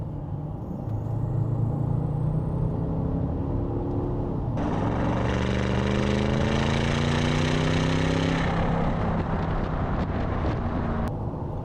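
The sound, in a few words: V8 TDI diesel engine revving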